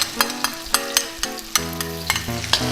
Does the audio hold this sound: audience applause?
no